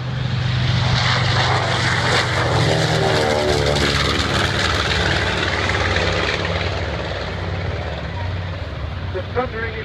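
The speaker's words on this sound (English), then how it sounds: "this plane now taking off mounts two Wright Cyclones" A twin-engine warbird with two Wright Cyclone radial engines roars through takeoff at a beach airshow, loud and close, with a sustained throbbing drone and shifting propeller pitch.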